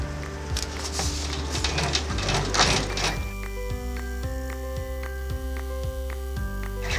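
Embroidery machine running tack-down stitching through layered cotton fabric: fast, regular needle clacks and a whirring motor hum repeating in a steady rhythm, close and clear, following a brief stretch of rustling handling.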